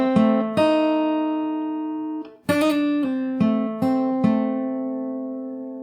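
A fingerpicked acoustic guitar plays a single melodic phrase, a handful of clear plucked notes and a brief strummed chord ringing close and sustained, with no talking.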